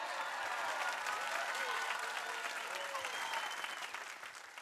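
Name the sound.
applause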